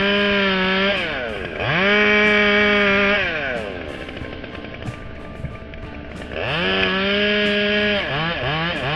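Chainsaw cutting a spongy dead oak tree, the engine revving up loudly in two long bursts and dropping back to a lower idle between cuts.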